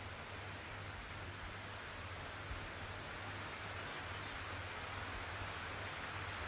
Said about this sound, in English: to include the sound of the rain